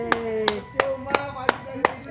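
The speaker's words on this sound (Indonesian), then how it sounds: "Kasih tepuk tangan, kasih tepuk tangan" A few people clap at a slow, uneven pace on a fishing dock, six sharp separate claps over a voice that keeps talking.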